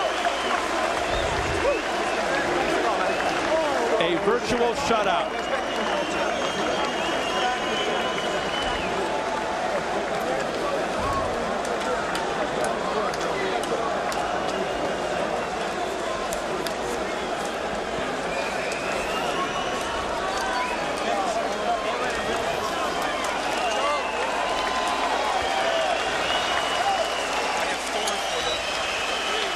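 A boxing arena crowd in Manchester applauds and cheers for boxer Joe Calzaghe after a world super middleweight title fight, a steady, dense roar of clapping and shouting throughout, with a commentator talking over it.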